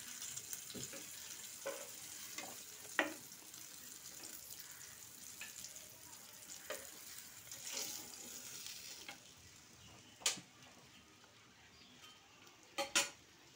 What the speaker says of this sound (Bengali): এপিট পিট করে ইলিশ মাছ ভেজে ফেললাম।